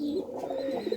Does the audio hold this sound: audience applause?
no